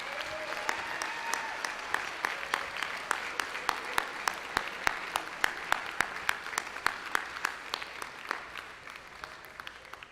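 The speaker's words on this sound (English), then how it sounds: "if you could give all of these kids a round of applause" An audience applauds a junior high school band at its spring concert, clapping that starts dense and settles into sparser, rhythmic, fairly distant claps that trail off toward the end.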